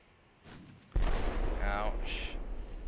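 Naval gunfire in the warship game Ultimate Admiral Dreadnoughts: a sharp, heavy boom lands near the one-second mark and leaves a loud, rumbling wash of battle noise, with a fainter earlier thud.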